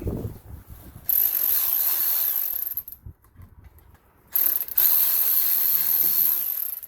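Ratchet wrench tightening a nut during water pump removal on a 1996 VW GTI, two bursts of rapid clicking ratchet strokes separated by a quiet pause, close and loud.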